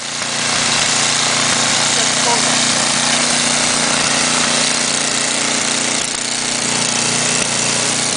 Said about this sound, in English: He got his snow blower on.